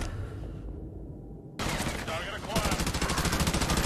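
Automatic gunfire in Modern Warfare 2 Remastered during a Veteran-difficulty oil rig infiltration, rising into a loud, rapid, continuous burst of shots after a brief quieter stretch.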